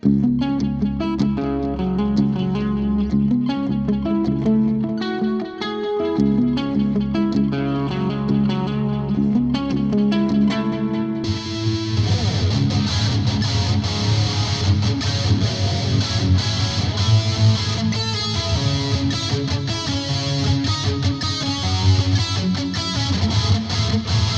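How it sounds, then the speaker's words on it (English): Electric guitar played through a BOSS GT-1000 with panned delay and reverb, repeating notes echoing over a wash of ambience, growing denser and brighter with sustained chords partway through; loud, continuous, no talking. "the delays are going to pan and they're not going to be affected by the reverb"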